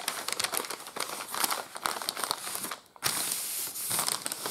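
Paper being folded snugly around packaged deer meat, a close, steady crinkling and crumpling that runs continuously with sharper crackles and a brief lull before resuming louder.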